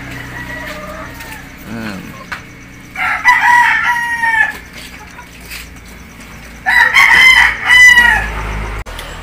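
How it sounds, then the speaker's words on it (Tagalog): Hens and a rooster in a backyard poultry pen kept for treating colds and respiratory illness: a rooster crows twice, loud and near, over steady soft clucking from the flock, with faint background voices. "Mga inahin."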